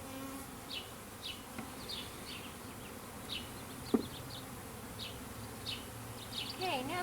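Honey bees buzz around an open beehive, a faint steady hum broken by individual bees zipping past the ear at close range.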